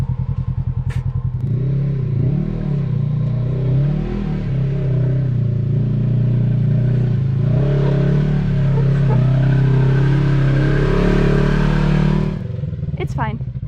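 Polaris RZR off-road vehicle climbing a steep rock trail at Moab, its engine revving hard and loud with surging, straining pitch changes, while people talk over the engine noise.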